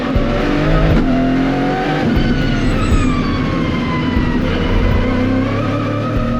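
A race car lapping a track in Detroit roars past at close range, its engine revving and shifting with rising and falling tonal whine, loud and continuous throughout.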